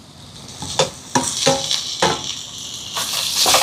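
Small onions frying in sesame oil in a pan during home cooking, with a soft steady sizzle and several sharp clinks and scrapes of a spoon against the pan, nearby and moderately loud.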